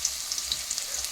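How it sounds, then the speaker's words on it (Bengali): Potatoes dropped into hot oil with cumin seeds tempering, a steady close sizzle with small scattered pops and crackles, no voices. "দেখো তেলের মধ্যে জিরে ফোড়ন দিয়ে দিয়েছি, আর এই যে আলুগুলো দিয়ে দিচ্ছি। আলুগুলো এখন ফুটবে ধুম পট পট ধুম পট করে।"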